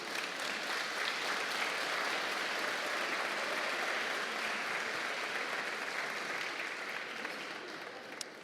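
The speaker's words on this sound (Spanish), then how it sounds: "Si merecen un aplauso las mujeres que van a hacer eso." A congregation at a church service gives a steady round of applause for the women, fairly faint and even, fading gradually toward the close.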